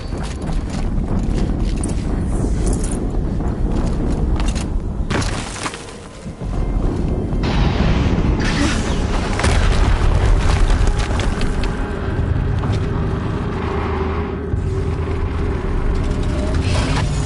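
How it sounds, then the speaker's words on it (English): Heavy explosions in the video game Horizon Zero Dawn: a dense, loud, rumbling roar of booms that fills the whole stretch, easing briefly partway through before surging back at full force. "explosion."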